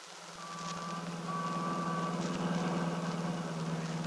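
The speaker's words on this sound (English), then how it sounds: "Seems so noisy. All the people, the traffic." City traffic ambience from an audio drama scene set in a taxi on the way to a hotel: a steady engine rumble with passing vehicle noise and a thin high beeping tone, building slightly and continuous, with no talk.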